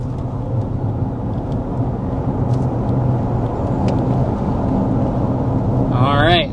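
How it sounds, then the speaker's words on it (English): A 2025 Audi Q8 e-tron electric SUV accelerates hard on a downhill road, with a steady low rumble of road and wind noise building throughout and a brief voice near the end. "we want to go ahead and start with a hard acceleration because this is an EV after all"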